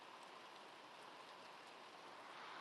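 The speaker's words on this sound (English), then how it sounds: "But the rain is picking up again." Steady rain from a severe Louisiana thunderstorm hisses evenly throughout, a constant wash of drops with no voices or breaks.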